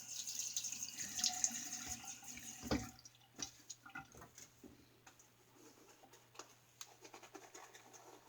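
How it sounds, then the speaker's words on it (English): Running tap water rinses shaving soap off a Sleek razor holding half a double-edge blade, steady flow at first, then quieter drips, taps and scraping at the sink, with no talking. "Get the soap rinsed off of it and get some more lather going."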